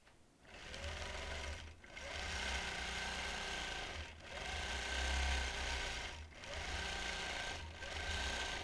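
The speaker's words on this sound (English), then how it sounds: "I'll stitch a couple leaves and I'll have another look at it" A sewing machine stitches a leaf pattern on a quilt in four steady runs of a few seconds each, split by brief stops, with a close, continuous mechanical whir and no talk.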